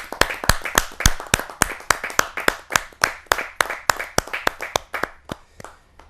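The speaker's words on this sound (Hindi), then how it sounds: "जोरदार तालियों के साथ" Loud, steady clapping from a small crowd at a Hindi poetry recital, sharp rhythmic claps that gradually slow and fade toward the end, with no talking.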